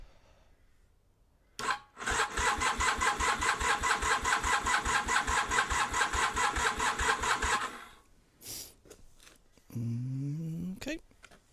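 A project motorcycle with a newly built exhaust cranks over on a weak battery with the choke on, a fast even chugging of starter turns lasting several seconds, then a short second attempt and a brief whirring burst, with no talk.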